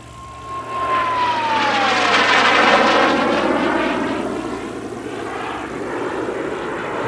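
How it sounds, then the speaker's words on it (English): An Aero L-29 Delfin jet trainer flies an aerobatic turn at an airshow in Leszno, its engine roar swelling loud overhead then slowly fading as the aircraft passes, heard alone without talk. "The L-29 doesn't have that luxury, so we're seeing a higher airspeed and a much wider turn radius"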